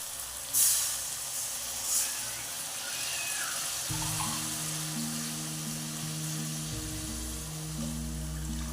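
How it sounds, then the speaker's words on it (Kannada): Three cups of water pour into a hot pan for vegetable upma, setting off a hissing sizzle that settles into a steady, close bubbling hum. "ಇದರಲ್ಲಿ ಮೂರು ಕಪ್ ನೀರು ಹಾಕ್ತಾ ಇದ್ದೀನಿ"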